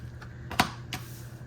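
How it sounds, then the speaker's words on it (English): Tarot cards being shuffled during a reading, a couple of short papery riffling bursts, the loudest near the middle, over a low steady hum with no talking. "Let's shuffle these up real good"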